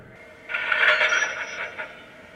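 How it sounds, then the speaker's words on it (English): Model train DCS coupler slack sound effect: a short metallic clanking rattle that starts abruptly and fades over about two seconds, played alone at moderate level. "which will play the coupler slack sound when I start the train"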